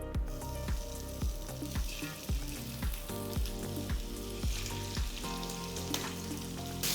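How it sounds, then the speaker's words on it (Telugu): Prawns fry lightly in a tablespoon of oil in a pan, giving a steady close sizzle with rhythmic stirring scrapes throughout and no voices. "ఫస్ట్ మనం రొయ్యల్ని లైట్గా ఫ్రై చేసుకోవాలండి."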